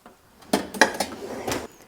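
Metal pan clattering against dishes in a home kitchen while cooking red split lentils; a few sharp knocks and scrapes close by, with no talking.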